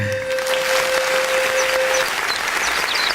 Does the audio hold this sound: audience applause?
yes